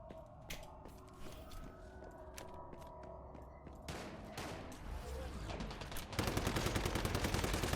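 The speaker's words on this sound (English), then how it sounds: "Them grenades hit hard." Grenades and guns from the survival shooter Once Human, built around shrapnel damage, sound as scattered bursts and pops over a steady mechanical background. The clip ends in a loud, rapid stream of gunfire.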